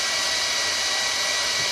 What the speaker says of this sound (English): the reason that heat gun kept running on its own